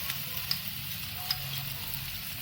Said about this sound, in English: अब ginger garlic को मैं 2-3 मिनट भूनूंगी